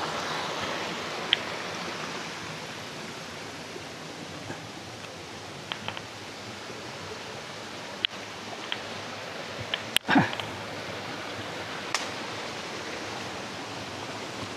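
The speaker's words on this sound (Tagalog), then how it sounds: "Yun, may mga mini falls pa dito." A small waterfall at a hidden lagoon in Magallanes, Cavite gives a steady, even rush of falling water, with a few faint rustles and one brief louder knock near the middle.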